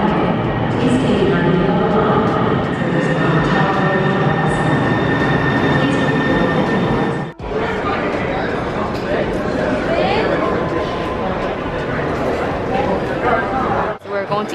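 Seattle light rail train running with a steady rumble of wheels on track, a high whine and squealing tones, loud and close from inside, with a brief dip midway and people talking over it.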